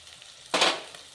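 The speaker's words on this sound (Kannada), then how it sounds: "ಇವಾಗ ಮಸಾಲೆ ಎಲ್ಲ ಫ್ರೈ ಆಗ್ಯದಲ್ಲ" Masala of turmeric, coriander, chilli powder and garam masala frying for an okra gravy, a brief loud sizzle bursting up mid-clip over a faint background hiss.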